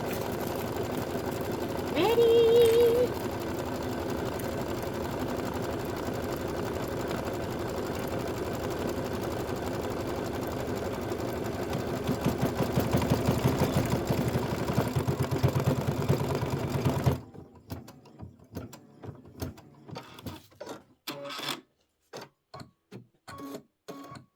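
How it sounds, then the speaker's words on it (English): Brother ScanNCut cutting machine cutting quilt block pieces, a steady mechanical whirring hum with rhythmic motor chatter running for most of the stretch, then giving way to quieter intermittent ticks and clicks near the end. "I'm getting my scan and cut ready"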